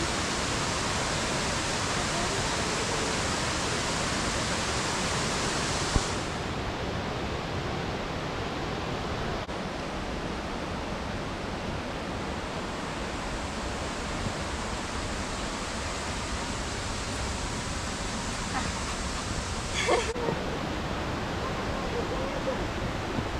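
Waterfall in the Akame 48 Waterfalls gorge: a steady, dense roar of falling water fills the scene continuously, with faint voices talking beneath it.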